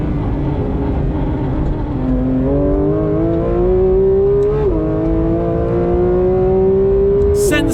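A Manthey Racing Porsche GT3 RS with KW suspension accelerates hard on a race track, its engine pitch climbing steadily, dipping briefly at a light brake for a chicane, then rising again at full throttle.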